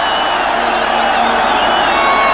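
A large football stadium crowd at the 1995 Copa América match between Argentina and Chile in Uruguay roars in a steady, broad wash of cheering, loud and continuous throughout with no breaks.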